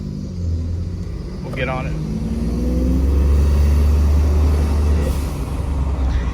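A 2020 Ford F-150 EcoBoost with its turbo silencers removed rumbles low and steady, its engine swelling slightly as it revs, while someone speaks briefly over it.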